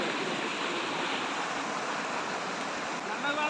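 A stream running fast and strong after recent rain, producing a continuous broad rushing roar of water close by that fills the whole stretch, with a faint hint of a voice near the end.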